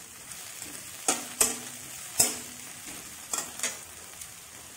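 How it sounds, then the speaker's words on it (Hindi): Green chilies fry with golden-brown onions in a pan for a mixed vegetable curry, giving a soft background sizzle broken by a few sharp spatter bursts and clanks of a stirring utensil. "एठी मु कंचा लंका पकाई देली"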